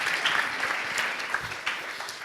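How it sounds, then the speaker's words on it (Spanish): An audience claps steadily throughout a short burst of applause, a dense and fairly loud patter with no pause and no voice over it. "ahora les damos un aplauso"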